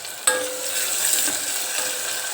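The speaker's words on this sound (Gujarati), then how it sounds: "તો હું ડુંગળીને ટમેટાનો વઘાર કરીને બનાવું" Onion and tomato tempering hitting hot oil in a pan, a sudden loud sizzle that erupts and then keeps hissing steadily and close up, with no talking.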